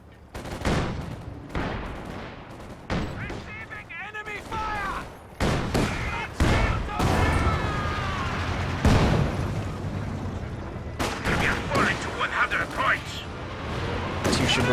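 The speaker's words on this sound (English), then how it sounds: "Katyusha barrage coming in." A Katyusha rocket artillery barrage hits in a World War II strategy video game, with a rapid string of loud blasts and crackling impacts, some close and heavy, mixed with gunfire and spoken commentary over the top.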